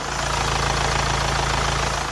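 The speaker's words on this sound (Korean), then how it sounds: "영상에서 들리시는 것과 같이 굉장히 정숙하고 규칙적인 엔진 사운드 들려주고 있고요" A 2019 Hyundai Santa Fe TM 2.0 idles with the hood open, a steady, even engine hum with a regular low pulsing rhythm, recorded close with no talk.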